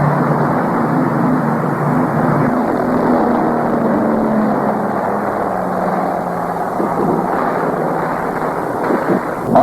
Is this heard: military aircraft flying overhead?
yes